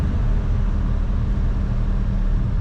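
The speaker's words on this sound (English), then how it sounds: "Good power from this engine." A 1970 Ford Torino GT engine idles steadily, a deep, loud, even rumble heard close up with no talk.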